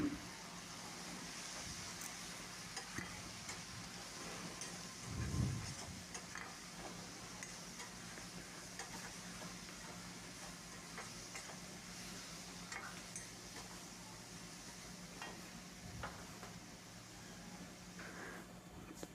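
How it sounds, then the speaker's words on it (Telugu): A spoon works homemade masala paste into an okra and dried fish curry, with soft, intermittent scraping over a faint sizzle and one louder knock partway through. "ఇంట్లో తయారు చేసి పెట్టుకున్న మసాలా ముద్ద వేసి బాగా కలపాలండి"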